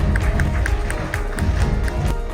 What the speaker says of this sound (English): this will be done with a big round of applause